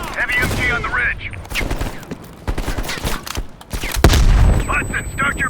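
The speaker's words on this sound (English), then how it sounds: "Heavy MG on the ridge." In Call of Duty Black Ops Cold War, a heavy machine gun on a ridge fires rapid bursts of loud, close gunfire that is mixed with booms and battle noise while soldiers shout over it.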